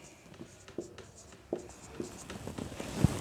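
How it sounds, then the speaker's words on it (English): Chalk or marker writing a word by hand on a classroom board during an English lesson, with soft scratchy strokes and taps, fairly faint, ending in a louder tap. "Now I'll write tomato."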